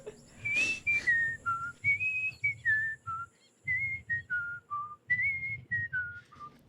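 A person whistles a lively tune in imitation of a piccolo, bright clear notes sliding and stepping in short phrases with brief pauses, close and fairly quiet, with no talking.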